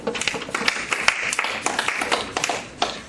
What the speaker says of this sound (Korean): 진행부장님께 박수.